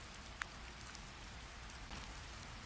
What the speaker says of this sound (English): The air is filled with that soft hiss of rain meeting fabric